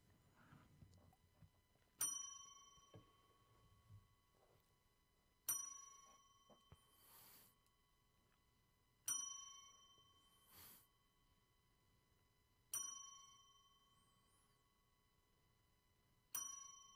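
A ringside bell struck for a ten-bell salute at a wrestling podcast studio, each clear metallic ding ringing out and decaying, spaced evenly about every three and a half seconds, with quiet gaps and no talk.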